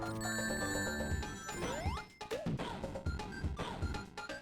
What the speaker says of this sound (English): those were the hype train notifications for the hype for Dumples